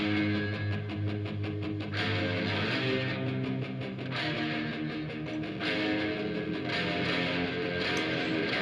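Guitars processed with parallel compression and a harmonic synthesizer on the top end play a sustained, reverb-soaked, heavily effected part with bright picking, continuous and loud throughout.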